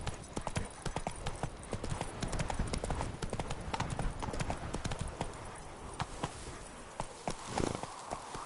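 Horse hooves galloping in the open-world video game The Witcher 3, a fast, continuous clip-clop rhythm that is close and loud throughout, with brief game ambience underneath.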